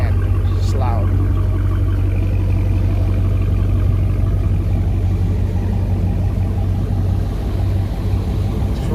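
A Dodge Charger Hellcat fitted with a GtHaus American Roar exhaust rumbles loud and steady nearby, a deep continuous drone that holds throughout, with voices talking over it.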